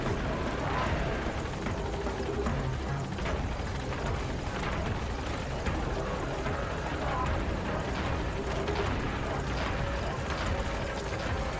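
Helicopter hovering in place without landing in Metal Gear Solid V, a steady dense rotor and engine roar filling the whole stretch at constant loudness, with voices talking over it.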